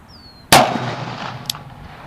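A Smith & Wesson 629 .44 Magnum revolver with a 3-inch barrel fires a single loud, sharp shot at a shooting range, followed by a ringing decay and a faint small pop about a second later.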